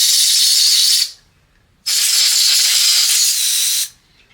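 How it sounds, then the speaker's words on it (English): Two loud bursts of compressed air hiss through the cleaned cavities of an FX Impact airgun's first-stage regulator body, the first about a second long, then a brief pause and a longer blast of nearly two seconds. "use a little bit of compressed air"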